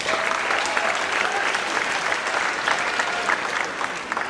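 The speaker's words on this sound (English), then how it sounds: "Let's give them a round of applause." Audience applause at a Farmingdale High School senior awards ceremony honoring parents, teachers and administrators: dense, steady clapping from a large crowd, sustained throughout and tapering slightly at the end.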